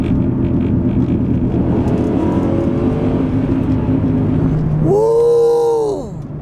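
A 2005 Lincoln LS V8 Sport on the road, with a steady, loud roar of tires and engine throughout and a rising whine near the end before the noise eases.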